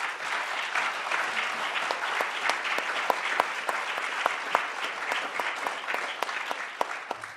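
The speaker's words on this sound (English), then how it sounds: "This is your first opportunity to applaud if you'd like." An audience applauds congressional candidates at a NY 21st District forum, a steady moderate round of clapping in a hall, with individual sharp claps popping out of the even patter and no talk over it.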